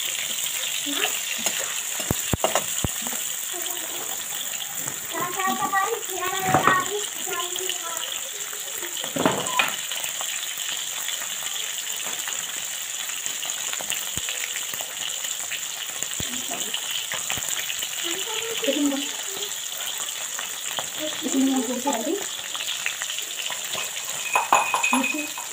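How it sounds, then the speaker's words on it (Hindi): Cubes of paneer frying in a kadai, a continuous close hiss and sizzle with occasional stirring scrapes, while a person talks intermittently over it. "पनीर को डाल देंगे, इसके बाद में थोड़ी थोड़ी फ्राई करेंगे"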